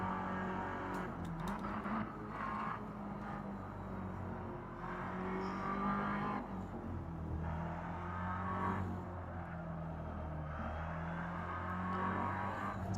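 McLaren GT car engine in a sim racing game at Red Bull Ring, revving up and down through repeated gear changes with a steady droning note, moderately quiet and without talk.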